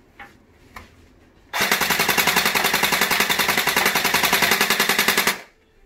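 An Ares Tavor-21 gel blaster fires a fast full-auto burst with blowback for about four seconds, a loud, evenly spaced rattle of rapid shots, preceded by a couple of faint clicks.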